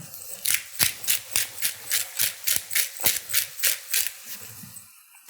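A pepper mill grinding pepper over lemon orzo with peas: about a dozen evenly spaced, crunchy grinding twists, close and crisp, with no talk.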